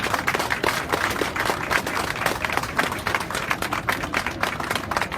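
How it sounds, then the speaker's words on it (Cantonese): Applause from the audience at a Hong Kong rally, a dense, steady patter of many hands clapping at once, sustained for several seconds at a moderate level. "于大為校長，俾掌聲。"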